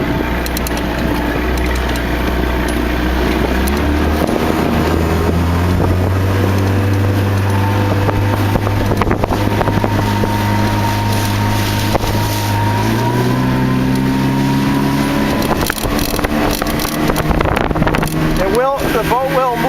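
An Arrow Glass motorboat runs across a lake with a loud, steady engine drone that climbs in pitch as it speeds up, wind buffeting the microphone over it, and someone speaking over the noise.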